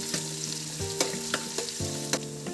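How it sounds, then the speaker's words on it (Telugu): Thinly sliced onions fry in a pan for a chicken pulao. A loud, close sizzle runs throughout, punctuated by several sharp clacks of a spoon stirring against the pan. "అవి వేగుతున్నప్పుడే మనము ఆనియన్స్, సన్నగా తరిగి పెట్టుకున్న ఆనియన్స్ అన్నమాట వేసాను"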